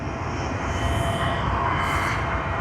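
An Etihad Airbus A350-1000 at Sydney Airport gives off a loud, continuous jet engine roar with a rising and falling whine, steady throughout, with no voices.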